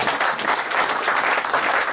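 Steady applause from a church congregation, many hands clapping together continuously at an even, fairly loud level.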